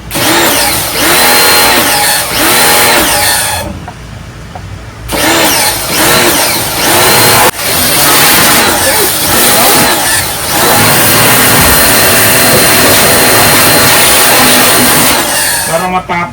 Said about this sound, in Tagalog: pressure washer. Wait na. Ang lakas!